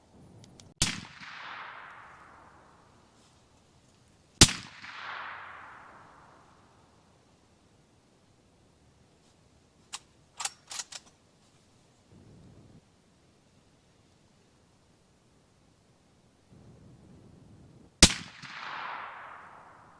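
Three loud rifle shots from Winchester Deer Season XP 250-grain straight-wall cartridges, each a sharp crack with a long decaying tail, spaced several seconds apart, with faint clicks and handling noise between.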